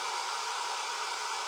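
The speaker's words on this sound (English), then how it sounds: "I'm going to try this dryer that I got from Temu." A cheap hair dryer bought from an online discount marketplace runs steadily at close range, a constant loud airy whoosh with no voices over it.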